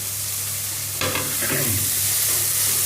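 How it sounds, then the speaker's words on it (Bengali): Tomato drops into a pan of frying onion, chilli, ginger and garlic paste for Bengali masoor dal, a brief splashing burst midway over a steady sizzle that then continues with stirring scrapes. "এখন টমেটোটা দিয়ে দিচ্ছি,"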